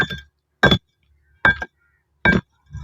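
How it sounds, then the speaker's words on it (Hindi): A raw, unfired kiln brick tapped four times at even intervals, each hit a short, dull knock without ring, close and clear with quiet gaps between strikes. "ये कच्ची ईंट है, इसका आवाज भी सही नहीं आ रहा"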